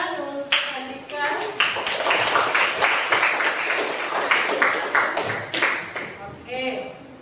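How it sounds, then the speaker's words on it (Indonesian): Classroom applause in a teaching session, with quick bursts of clapping interrupted by speech and cheers from the group. "beri tepuk tangan untuk Andika."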